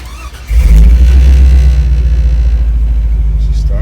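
A Chevrolet C10 pickup truck started with an ignition key through a newly fitted steering column switch; the engine catches after half a second and settles into a loud, steady low rumble.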